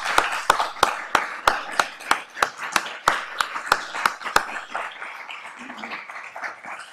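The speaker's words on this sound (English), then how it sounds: "please join me in giving a well-deserved round of applause to Kevin Outterson" An audience at a law school investiture ceremony at Boston University claps, the claps sharp and evenly spaced and growing denser before fading into a softer murmur.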